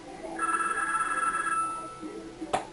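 A telephone rings with a single steady electronic tone lasting about a second over a low background hum, followed by a brief sharp knock.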